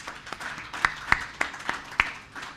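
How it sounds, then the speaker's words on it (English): A few scattered handclaps from a meeting audience after presentations at an ICAS food loss assessment session, about six separate sharp claps over a low room hiss, fairly faint and irregular rather than full applause. "can we give them a round of applause?"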